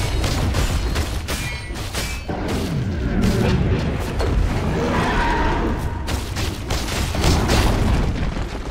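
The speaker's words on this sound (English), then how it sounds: "Dire's middle tower has fallen" Dire's middle tower in a Dota 2 match collapsing amid fighting, with a run of heavy booms and impact crashes layered over clashing combat noise, loud and sustained throughout.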